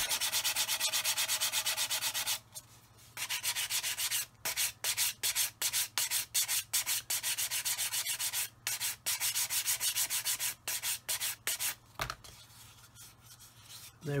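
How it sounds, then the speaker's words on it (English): Rhythmic back-and-forth sanding strokes on a plastic scale-model part, close and rasping, repeating in quick bursts with short pauses between runs. "Again, I'm sanding the ends"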